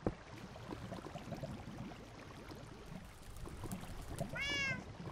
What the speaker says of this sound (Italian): Dei gatti!